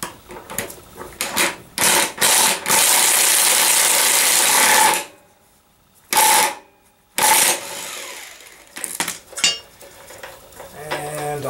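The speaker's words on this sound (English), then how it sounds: "I think I'll run that down with the bolt instead of pounding on it." A ratchet running a bolt down on a Sensation commercial mower, rapid loud metallic clicking in long bursts broken by short pauses and a couple of silent gaps, close up with no talking.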